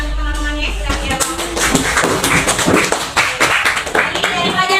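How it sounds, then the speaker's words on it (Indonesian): Students in a classroom clap for classmates who answered during an economics lesson, giving a short, uneven burst of nearby handclaps mixed with shuffling and voices. "Kasih tepuk tangan untuk teman-temannya sudah menjawab."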